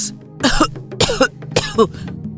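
A woman's dry cough comes in three short, harsh bursts at close range, with brief pauses between them and no talking.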